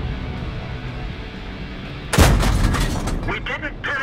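A tank cannon in a tank video game fires a single loud, sharp blast over steady engine rumble, followed by a ringing, rumbling decay, with someone talking around it.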